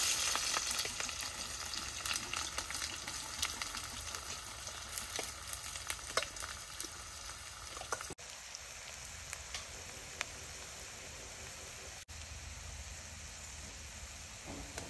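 Onions frying in a hot wok give a steady, close sizzle with crackling spatters throughout, dropping slightly in intensity partway through, with no talk.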